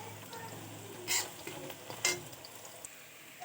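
Ginger and cardamom fry quietly in a pan, with a faint steady sizzle broken by two brief scraping stirs of a utensil against the pan.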